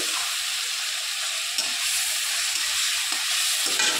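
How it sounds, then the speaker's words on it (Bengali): Freshwater snails (guguli) fry in plenty of oil, giving a steady close sizzle with occasional stirring scrapes. "ভাজা প্রায় হয়ে এসেছে, আর কিছুক্ষণ লাগবে।"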